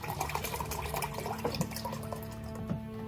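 Pineapple juice poured into a scorpion cocktail, a steady liquid splash and drip close by, running continuously with no talk.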